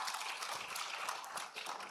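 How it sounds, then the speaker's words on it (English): At a Tanzanian ICT conference, an audience breaks into steady applause for a student, a dense, even patter of clapping that is distant and faint. "Clap for her."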